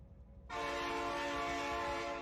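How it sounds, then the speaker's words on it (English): A train horn in Factorio blares in suddenly and holds as a loud, steady harmonic tone over a low rumble of rolling rail traffic. "Train noises!"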